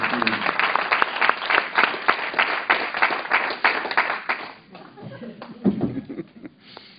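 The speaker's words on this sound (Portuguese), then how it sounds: "Aplauda o Senhor pela vida desse homem." A church congregation claps warmly, loud, dense applause that thins out toward the end, with a few voices and light laughter underneath.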